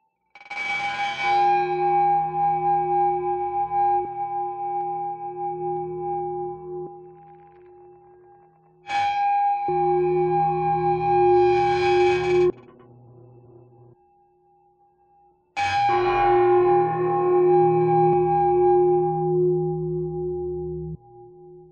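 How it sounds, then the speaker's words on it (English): Ancient Chinese bells struck three times, each strike ringing out with a bright metallic attack and a long, sustained shimmering decay, separated by brief pauses, close and loud with no voices. "engender a contemplative and meditative experience of the bells themselves"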